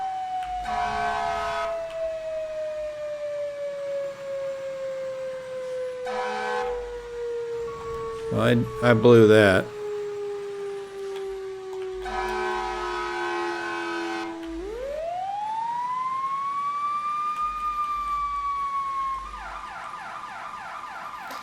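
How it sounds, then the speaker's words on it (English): Fire engine siren in the EmergeNYC game, a long wail sliding slowly down in pitch, interrupted by short horn blasts, then winding back up again; a voice speaks briefly midway. "I like that it has a few extra sirens on it."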